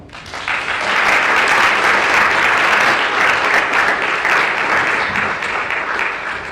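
An audience at a creativity symposium applauds the presenters, a dense, loud sustained clapping that swells within the first second and holds steady before tapering slightly.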